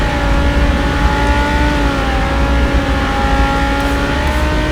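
Lamborghini Huracán Performante with a tuned exhaust pulls away under acceleration, its engine a loud, close, continuous drone that holds steady throughout with no talking.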